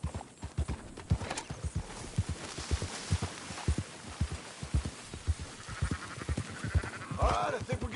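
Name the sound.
sheep bleating in a video game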